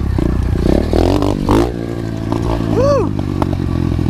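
An SSR 125 pit bike engine drones steadily as it throttles down a trail bump, revving with a rattling clatter, while a rider whoops and voices call out nearby.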